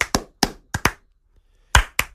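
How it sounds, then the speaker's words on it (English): Seven sharp, isolated hand claps with uneven gaps and a long pause in the middle, close and dry, with no talk. "How about a slow clap for you?"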